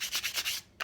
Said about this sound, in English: you could lightly sand that and sand those down